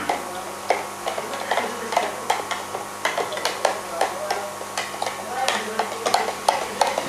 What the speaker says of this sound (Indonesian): kalau sudah selesai maka kita akan aduk dulu